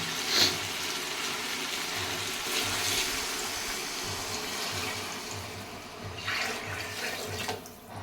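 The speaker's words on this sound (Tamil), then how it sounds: "இப்போ தண்ணி சேர்த்துக்கிறோங்க" Water pours steadily into a cooking pot, a continuous splashing rush with no voices, growing slightly louder near the end.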